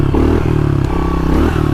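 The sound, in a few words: motorcycle doing a wheelie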